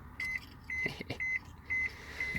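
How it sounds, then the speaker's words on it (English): A steady electronic seatbelt warning beeper chimes in a regular repeating pattern, about twice a second, inside a Honda Civic with faint engine hum beneath. "It's a seatbelt beeper."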